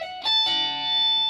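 Lead guitar intro riff for a worship song, a few sustained, effects-laden electric notes with rich harmonics, played alone and ringing out loud and close.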